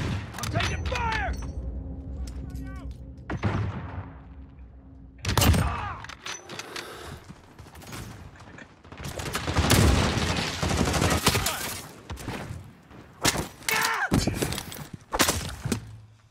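Gunfire during a Call of Duty video game match: repeated bursts of automatic fire and single loud shots with impacts and shattering, coming in clusters between short lulls, with occasional voices mixed in.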